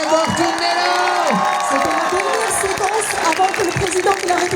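A crowd applauds and cheers in farewell to President Macron, with clapping, whoops and shouts mixed with voices throughout.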